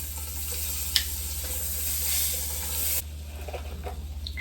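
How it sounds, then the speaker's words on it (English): Butter added to a hot pan after searing steak and shrimp gives a steady close sizzle and fizz that drops abruptly partway through, then a quieter crackle continues. "Gonna go ahead and add the remaining butter."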